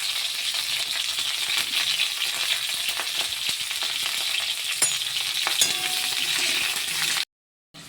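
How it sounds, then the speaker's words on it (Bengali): Small pieces of cauliflower frying in hot oil, giving a dense, steady, close sizzle and crackle with faint occasional pops, then a sudden brief cut to silence near the end before the sizzle returns. "তেল গরম হয়ে গেছে, ফুলকপিগুলো আমি ভেজে নিচ্ছি।"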